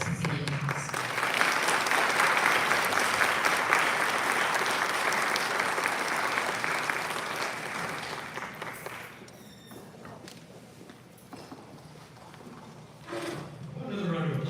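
Loud, sustained applause from an audience at the SBC Dallas Accelerator Program graduation right after a speech, then fading to scattered claps and a brief voice near the end.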